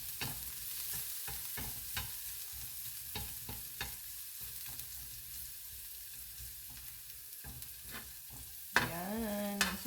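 Garlic, vegetables and blue marlin sizzle quietly in a pan for a Filipino ginisa, with a soft steady frying hiss broken by intermittent stirring clicks and a louder scrape near the end.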